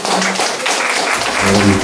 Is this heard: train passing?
no